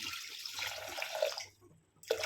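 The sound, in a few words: pouring a little water into the cooking pot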